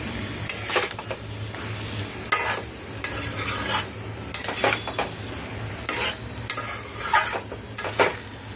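Paneer cubes tossed with masala in a pan during chana masala cooking, spatula scraping in bursts against the metal over a low, steady sizzle, close and fairly loud, no voices.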